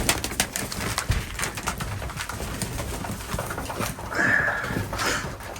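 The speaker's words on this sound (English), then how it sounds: "You can see how big these Strasser pigeons are compared to the normal pigeon." Strasser pigeons in a loft give soft, low cooing calls amid shuffling and light flapping, close by, with a brief higher call near the end.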